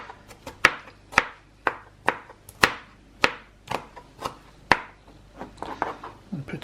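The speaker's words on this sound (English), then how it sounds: "so we'll just chop that up just now" A knife chops through a tomato on a board for yemista, about a dozen sharp, evenly spaced cuts close by, followed by quicker, softer taps.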